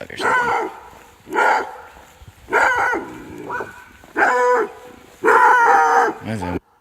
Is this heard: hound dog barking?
yes